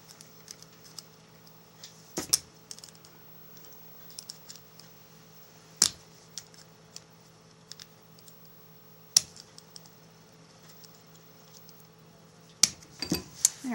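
Micro screws being tightened onto a handmade ring: sparse, faint, sharp little clicks and ticks, several seconds apart, over a quiet background with no talking.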